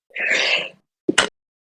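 A single person's sneeze, close and fairly loud, with a drawn-in breath followed after a short pause by a sharp explosive burst, then silence.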